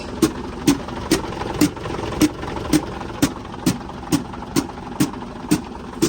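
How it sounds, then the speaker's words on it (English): A Scania truck engine idling while failing to build air pressure, with a loud, regular knocking pulse repeating roughly twice per second over a steady mechanical hum. "this Scania is in the way, as you can see, and it's not building up its air pressure, and it's making this noise"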